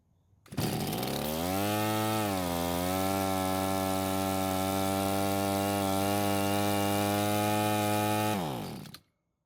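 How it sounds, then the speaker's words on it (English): Shindaiwa string trimmer's small two-stroke engine starts and immediately screams at a steady full-speed whine with no throttle control, loud and close, holding for about eight seconds before cutting off abruptly. "the engine was running at full speed with no throttle control"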